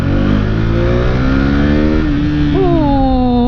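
A KTM RC390 sport motorcycle engine revs loudly and climbs in pitch as it accelerates, close and continuous with no talking.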